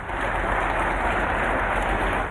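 Widespread applause across Britain for Captain Tom, a dense, steady wash of many hands clapping at once, even and continuous like rain, with no voices standing out.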